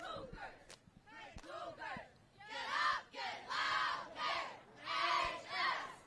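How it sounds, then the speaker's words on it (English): Cheerleaders and the crowd yell a rhythmic chant in bursts at the L.A. City Section Cheer Championship at Birmingham High School, with loud repeated shouts that swell in volume and sharp claps or stomps between them. "The crowd knows when to yell on brown, gold, white."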